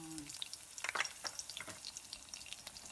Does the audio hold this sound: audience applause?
no